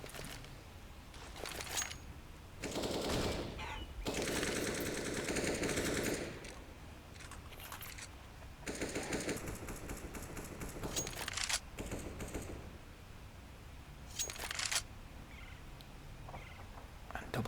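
Bursts of rapid gunfire from a Counter-Strike match on the Cobblestone map, with several loud volleys of automatic and pistol shots separated by short pauses and quieter stretches of in-game noise.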